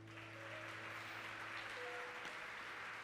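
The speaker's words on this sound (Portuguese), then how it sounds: "Você pode aplaudir ao Senhor." Church congregation applauding during a sermon, a faint, distant wash of clapping beneath a steady low hum from the room or sound system, continuous for a few seconds.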